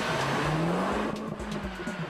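Opel Corsa OPC hot hatch taking a curve at speed, its tires squealing in a sustained rising whine over steady, close engine drone and road roar, with no talk.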